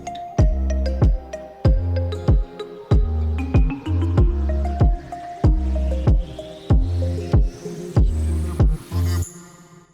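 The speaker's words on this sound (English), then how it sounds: "Simple 808." Deep 808 bass notes in an afro/moombahton remix made in FL Studio pulse in a regular pattern, each boom sliding in pitch, with light percussion and melody clicks layered above.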